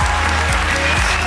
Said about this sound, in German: Ich danke euch für den schönen Applaus